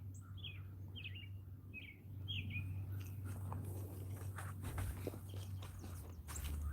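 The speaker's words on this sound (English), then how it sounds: "See the red bird?" A red bird chirps from a persimmon tree in a home garden, giving a few short, fairly faint calls in the opening seconds over a steady low background hum, with no talk.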